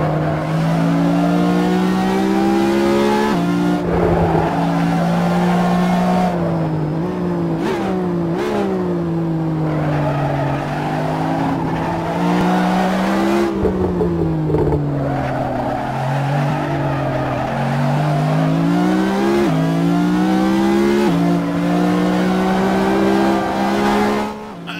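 A race car engine in the video game Assetto Corsa screams continuously, pitch climbing through gears and dropping on downshifts, with brief tire squeals, loud and close from the onboard camera.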